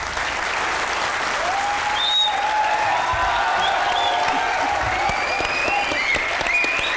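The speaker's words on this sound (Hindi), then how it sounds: "जरा तालियां बजाएं।" A studio audience at the Pakistani comedy talk show Hasna Mana Hai claps in sustained, dense applause that carries evenly throughout, with faint voices and whoops mixed in.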